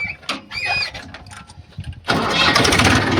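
A tractor's engine cranks over a couple of seconds of whirring, clicking starter noise, then catches and settles into a loud, steady running roar close by.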